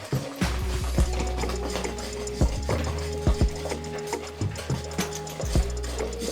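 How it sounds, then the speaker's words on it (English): A spoon stirring peanut butter soup in a small pot over low heat, with repeated scraping, clicking strokes and knocks against the pot in an uneven rhythm, close and clear with no talking. "Keep stirring."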